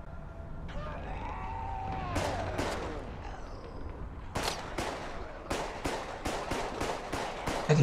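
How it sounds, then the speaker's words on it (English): Gunfire in the zombie shooter Contagion, sharp cracking shots, some in quick bursts and others spaced apart, fairly close over a steady low background hum, with brief voices early on. "I can hear bullets."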